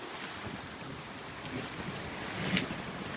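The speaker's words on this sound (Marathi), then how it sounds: "तिथे आपल्याला जायचं आहे पण तिथे लाटा येत आहेत" Sea waves breaking along the shore at a fishing spot, a steady wash of surf mixed with wind buffeting the microphone, swelling slightly near the end.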